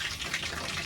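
Water sprinkled over meat being prepared for a non-veg meal, a brief, soft splashing hiss.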